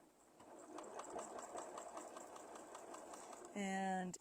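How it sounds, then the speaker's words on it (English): A sewing machine runs in a steady rapid rhythm while top-stitching the end of a towel, with soft talk over it, ending in a louder, denser burst of mechanical whirring. "all we really have to do here is sew up our little"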